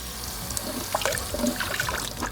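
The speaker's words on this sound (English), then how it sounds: "One more final rinse." Beans get a final rinse under running water in a kitchen sink, with close splashing and trickling that comes in irregular bursts as the water runs over them.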